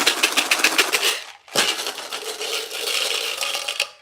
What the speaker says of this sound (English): This is that time when I shake the dice.